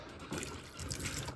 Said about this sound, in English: So I pour the water through the cages just because it's way easier than opening every single cage for water.